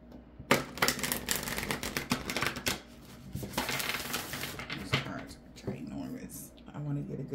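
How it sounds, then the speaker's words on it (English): A deck of tarot cards is shuffled in a house, with riffling, flapping bursts and soft slaps close by, mixed with people talking. "good shuffling though"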